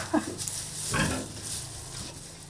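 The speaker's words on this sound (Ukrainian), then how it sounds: "поросята бігають, випускаю" Piglets on a village farm oink and grunt while running about, a few short squeals and snorts close by over soft scuffling, with no talking.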